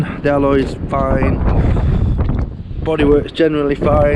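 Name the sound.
wind blowing into the microphone outdoors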